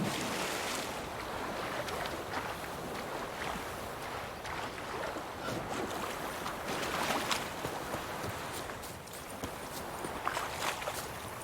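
A stream in the countryside of The Witcher 3: Wild Hunt, near White Orchard, flows steadily with a continuous soft rushing and splashing texture throughout.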